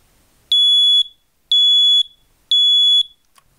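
A household smoke alarm under test sounds three loud, shrill, identical beeps about half a second each, evenly spaced with short silent gaps, close and alone.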